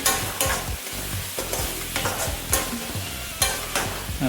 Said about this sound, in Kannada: ಗ್ರೀನ್ ಚಿಲ್ಲಿ ಪೇಸ್ಟ್ನ ಇವಾಗ ಆ್ಯಡ್ ಮಾಡ್ತಾಯಿದ್ದೀನಿ ನೆಕ್ಸ್ಟು ಫ್ರೈ ಮಾಡ್ಕೊಳ್ಳೋಣ ನೀಟಾಗಿ